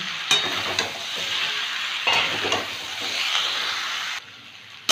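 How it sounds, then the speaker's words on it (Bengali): Eggplant and mixed vegetables fry in a pan with a steady, loud sizzle, broken by a few stirring scrapes, and the sizzle cuts out near the end. "বেগুনটা দিয়ে দু তিন মিনিট ভেজে নিলাম"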